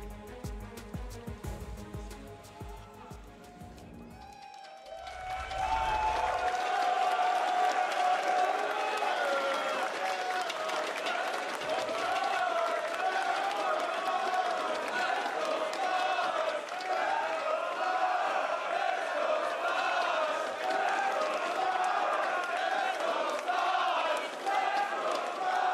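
Esports arena crowd at a League of Legends World Championship 2019 group-stage match between FPX and Splyce roars with sustained cheering and applause, loud and continuous after an opening stretch of quieter commentary and music.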